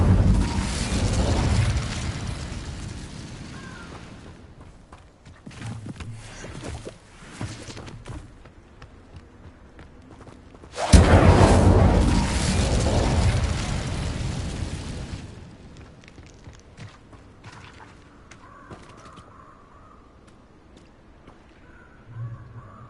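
Fire and blasting spells going off in the Hogwarts Legacy video game, two long roaring explosive bursts each trailing into rumbling debris and crackles, with quieter stretches of scattered game effects and footsteps between.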